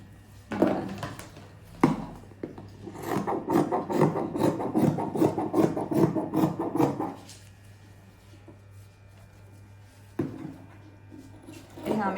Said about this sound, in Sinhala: මේක කපන්න ඕන.